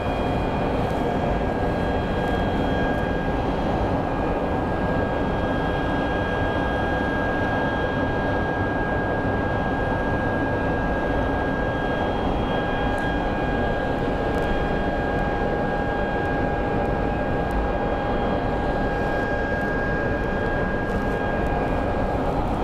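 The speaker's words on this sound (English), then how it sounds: "That looks like a United 737 MAX." A United Boeing 737 MAX airliner at Phoenix Sky Harbor airport at night gives a steady, loud jet roar with a constant high whine running throughout, heard at a distance with no talk.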